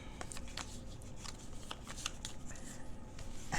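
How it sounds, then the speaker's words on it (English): A deck of cards for the Legendary Marvel deckbuilding card game is shuffled close up, a steady run of riffling and flicking card sounds lasting several seconds, with faint talk in the background. "I'm just shuffling."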